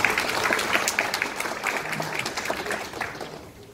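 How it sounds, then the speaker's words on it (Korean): An audience at a citizens' regional meeting claps for several seconds, a dense, fairly close patter of many hands that slowly tapers off. "과장님께 한번 박수 한번 부탁 좀 드리겠습니다."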